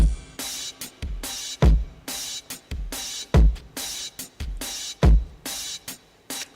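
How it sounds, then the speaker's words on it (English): A fast drum loop with punchy kicks and crisp, hissing hi-hats, drenched in reverb and gritty distortion, playing alone in a steady repeating pattern. "reverb and fast distortion on the drums"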